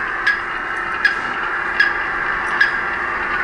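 Radio transmitter fitted to a great spotted kiwi's leg sends out short, sharp electronic beeps, four of them at a steady, slow interval of under a second, over a constant background hiss.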